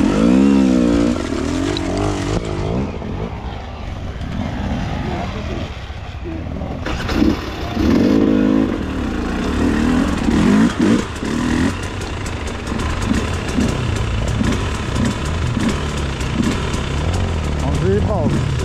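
A moped engine revs and idles close by in rough, uneven bursts, with people talking loudly over it throughout.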